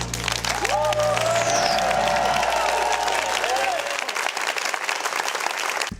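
Studio audience applause in a TV infomercial, a dense burst of clapping and light cheering over a voice and music, then fading into sustained clapping alone.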